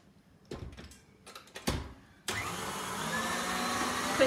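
An electric whisk whips chocolate teacake filling, starting after a few clunks and rattles of handling and then running as a steady close whirring drone to the end.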